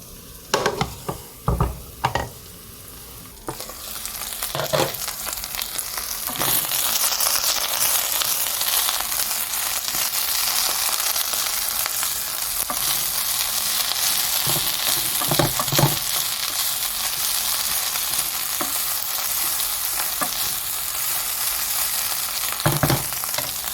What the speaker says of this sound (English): don't want the onion to be on the bottom. It's kind of tossing it like that, so nothing gets burned